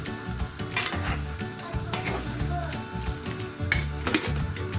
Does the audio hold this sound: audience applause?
no